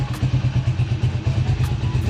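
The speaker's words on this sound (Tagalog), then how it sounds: "isang kick lang, i-start na kanina yan" A motorcycle engine that has been sitting in storage idles after a kick start, its close, loud, steady pulsing running on its own with light clatter.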